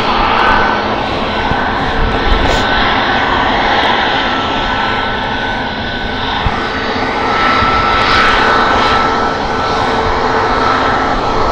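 Boeing 737 MAX jet engines roar loudly and steadily close by at Stansted Airport, a broad sustained blast with no talk over it.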